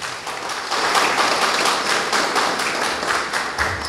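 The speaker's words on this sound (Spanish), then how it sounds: "Vamos a llevar hasta ellas un fuerte aplauso" At a government handover of a children's daycare center, an audience gives steady, moderately loud applause, many hands clapping evenly for nearly four seconds with no voices over it.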